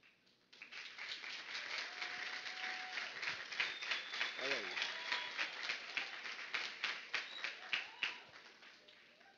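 An audience at a FIEP award ceremony gives sustained applause, dense rapid claps holding steady for several seconds while a voice speaks faintly over it.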